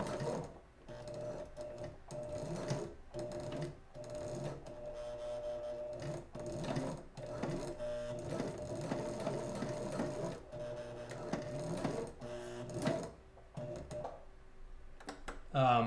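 A sewing machine stitching a bar tack on Spider-Man gloves, running in steady rapid bursts with brief pauses between runs, close and fairly quiet.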